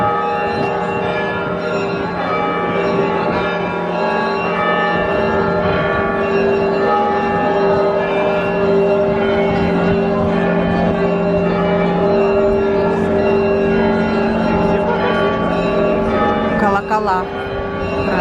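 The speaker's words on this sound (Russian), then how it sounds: "Колокола. Правильно." Church bells ring continuously near Moscow's GUM department store, a dense and sustained peal at steady loudness with overlapping tones throughout.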